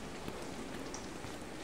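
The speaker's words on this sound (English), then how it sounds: "Don't like the rain." Rain falling in the skateboarding game Session, a soft continuous patter and hiss with a few brighter droplet ticks, quiet and unbroken, without any talk.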